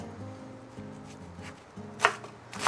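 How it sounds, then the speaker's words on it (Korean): A knife cuts perilla leaves on a board with a couple of crisp, close chops near the end over a quiet, steady background. "깻잎 10장 썰어주세요"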